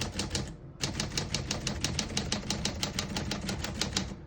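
Steady typing on a 1949 Smith-Corona Sterling vintage portable typewriter, crisp mechanical key strikes in a fast even rhythm, close up, with one brief pause near the start and no talking.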